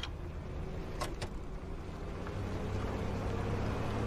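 A golf cart driving in Fortnite, its low steady motor hum running throughout with a couple of sharp clicks or knocks early on, fairly quiet and without talk.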